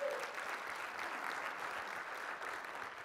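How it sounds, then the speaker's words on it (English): A conference audience gives a sustained round of applause, dense, even clapping from a large crowd that holds steady throughout. "Everybody give him a round of applause"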